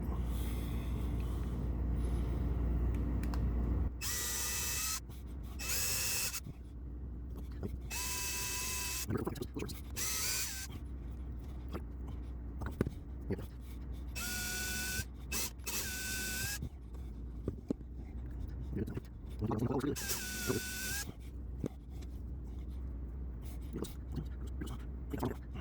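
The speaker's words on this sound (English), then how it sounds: "let's get this thing drilled out and tapped so we can get her into paint" Drill and tap work on a stripped car part in a garage: a run of short bursts of grinding, ratcheting tool noise, loud and close, broken by pauses and handling clatter.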